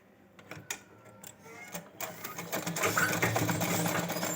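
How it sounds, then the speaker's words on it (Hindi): A sewing machine stitches fabric for a baby gown, starting with a few scattered clicks and short bursts, then running into a steady, rising mechanical whir that grows louder toward the end. "अभी इसके ऊपर कपड़े को रख के इस तरह से हमें सिलाई लेनी है।"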